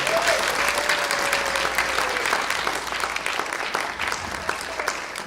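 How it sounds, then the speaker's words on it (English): Audience at a furry convention panel giving a big round of applause, steady dense clapping throughout, close and fairly loud, gradually easing slightly near the end. "Big round of applause for Sewage"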